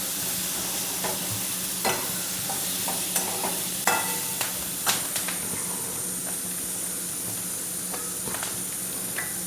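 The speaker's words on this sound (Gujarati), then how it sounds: "બીજી તરફ આપણે મરચાં ફેરવતા રહીશું." Capsicum stir-fried in a pan for Gujarati-style sabji, a steady close sizzle broken by scattered scraping stirs of the utensil, with no voices.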